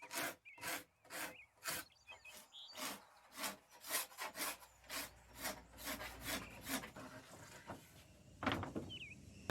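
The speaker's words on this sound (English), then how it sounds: "a metal cabinet scraper to scrape the varnish off the wood" Metal cabinet scraper pulled along the grain of an old oak tabletop, stripping varnish in a steady series of rasping strokes, close up, with no voices.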